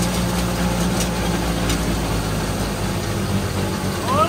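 Ford Fusion engine running under load and bogging down, a steady low rumbling drone close by with no clear revving.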